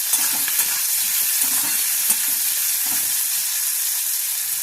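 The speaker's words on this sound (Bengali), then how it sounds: "এটা হালকা ফ্রাই করে নিয়েছি আমি ক্যাপসিকাম আর পেঁয়াজ।" Capsicum and onion for chilli rohu fish fry in a pan with a bright, continuous close sizzle, broken by light stirring scrapes, steady in level and free of speech.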